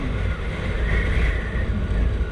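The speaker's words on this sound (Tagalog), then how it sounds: "Alon dagat." Sea waves along a shoreline, heard as steady low rushing wash mixed with wind noise on the microphone, continuous and fairly loud with no talk.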